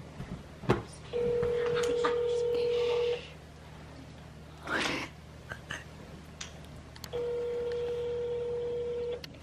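Two long steady tones from a phone line separated by a burst of noise, with faint clicks and background hum throughout.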